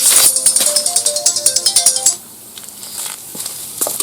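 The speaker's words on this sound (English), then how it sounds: "I'm getting a phone call" A phone ringtone chimes in a quick repeating pattern of bright tones for about two seconds, then cuts off, leaving faint rattling and background noise.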